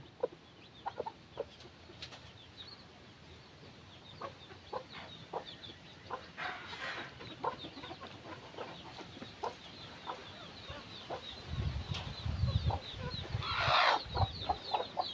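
A broody hen clucks in short, repeated bursts against a noisy farmyard background, with a louder low rumble and a brief flurry of sound near the end.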